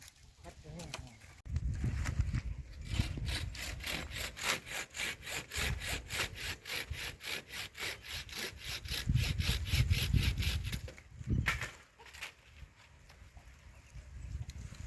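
Steady back-and-forth strokes of a hand saw cutting through wood, loud and close, with brief pauses between bursts and people talking nearby.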